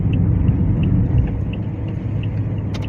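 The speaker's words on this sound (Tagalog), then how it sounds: "Yun, ang daming mga naka-standby na mga sasakyan." Many idling vehicles waiting at a ferry port during a storm, with a steady, dense low rumble of engines holding throughout, fairly loud and continuous with no talk.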